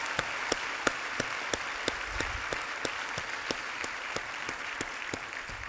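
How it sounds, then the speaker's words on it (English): Audience applause at an awards ceremony honouring a mentor, steady dense clapping from a sizeable crowd with a few sharper individual claps standing out, continuous throughout. "Give yourself a big round of applause"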